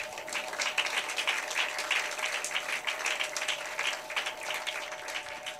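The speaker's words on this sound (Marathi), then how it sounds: "जिवंत देवासाठी जोरदार टाळ्या वाजवा." A congregation at a church service applauds the living God with loud, sustained clapping from many hands that continues steadily to the end.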